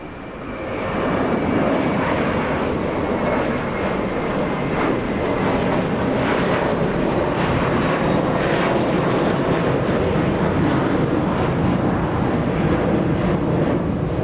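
An American Airlines Airbus A321 bound for Boston departs LAX with a loud, sustained jet roar that rises quickly at the start and holds strong and near, with slight wind buffeting.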